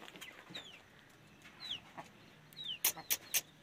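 Hens clucking as they leave their cage, several soft clucks and short squawky calls scattered throughout, growing into a quick burst of louder, closer clucks near the end, with no voices.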